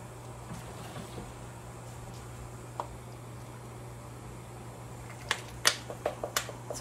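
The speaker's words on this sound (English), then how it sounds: "it's the water popping through the holes in the basket" Sharp little pops and crackles come in a quick irregular cluster near the end, over a steady low hum, as water bubbles through the holes of a blanching pot's basket.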